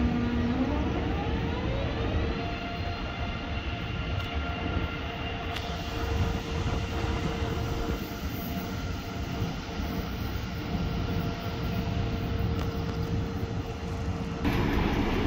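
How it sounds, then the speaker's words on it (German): An ICE 3 high-speed train pulling out of Düsseldorf main station, a loud, steady rumble and electric drone that fills the platform for the whole stretch, with faint screeches and rattles and no voices. "ICE 3 hat Ausfahrt."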